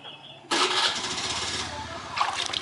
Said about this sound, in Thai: อ่าสตาร์ทได้เลยเนาะ